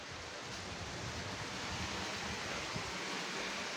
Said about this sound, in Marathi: झऱ्याचं पाणी बघा कसलं छान वाटतंय.